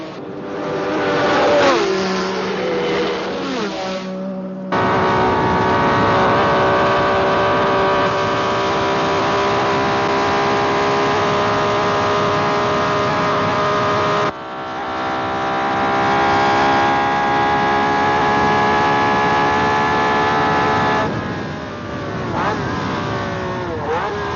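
1966 Formula 1 race cars, including a Ferrari and a Brabham, roar past at full speed. Loud sustained high-revving engine drone with abrupt cuts and rising and falling pitch as cars pass close by, with some voices.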